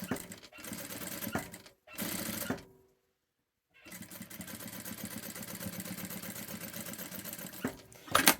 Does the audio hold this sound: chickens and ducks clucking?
no